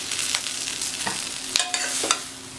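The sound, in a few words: stirring plantain poriyal with wide ladle in heavy kadai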